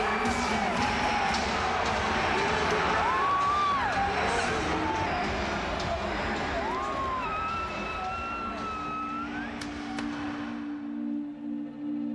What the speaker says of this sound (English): This crowd is living.